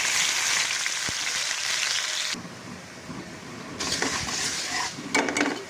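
Washed, drained rice hits hot oil and butter in a pan, sizzling loudly at first, then frying more softly with bursts of stirring and the scrape of a utensil against the pan.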